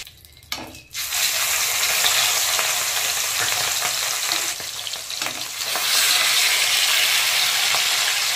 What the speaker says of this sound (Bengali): তো এভাবে মাছগুলোকে হালকা হালকা ভেজে উঠিয়ে নেব।